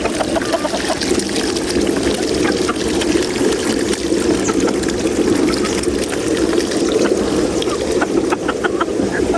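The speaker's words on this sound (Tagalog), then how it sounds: "Uha, pumapasok po ang tubig." Flood water from a swollen river pours into a hut: a steady, close rush and splash that runs without a break and without voices.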